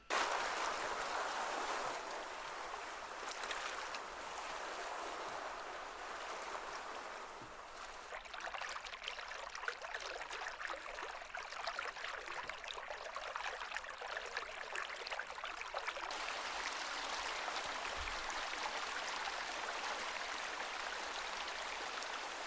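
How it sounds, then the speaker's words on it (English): Nature ambience from a sound pack: a steady wash of flowing, trickling water fills the scene throughout, with a brighter, busier stretch of splashing in the middle and no voices. "So these are the nature ambient sounds."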